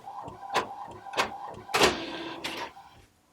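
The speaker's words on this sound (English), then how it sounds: "I use an inkjet Epson Workforce 1100." An Epson Workforce 1100 inkjet printer works through a page with a series of separate mechanical whirs and clunks, about four strokes in three seconds, close by, before falling quiet.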